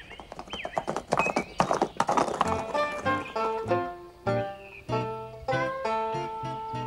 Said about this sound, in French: il s'est monté à cheval maintenant